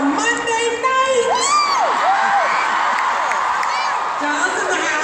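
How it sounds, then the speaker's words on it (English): A big crowd at a Michelle Obama tour event in Dallas cheers, whoops and yells without a break, with high shrill shouts rising over a steady roar of voices. "What an incredible crowd."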